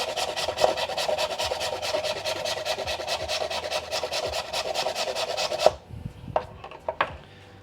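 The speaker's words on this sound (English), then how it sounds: "I like freezing my ginger because it grates really nicely." Frozen, icy ginger is scraped across a grater in a steady run of quick, dry rasping strokes, close and fairly quiet, stopping abruptly and followed by a few light knocks.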